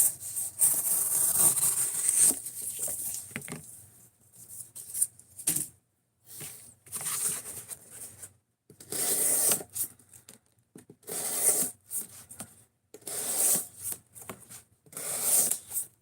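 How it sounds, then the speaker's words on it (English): An S35VN steel knife blade is drawn across a stone on a fixed-angle sharpening system, close scraping strokes in short bursts separated by brief pauses. "I'm going to sharpen it on camera."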